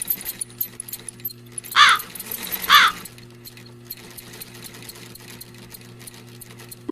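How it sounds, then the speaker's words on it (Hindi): Two quick rattling bursts of a sewing machine stitching, a second apart, over a low steady hum and faint background ticks. "अपनी माँ की सिलाई मशीन निकाल कर उस पे सिलाई करने लगती"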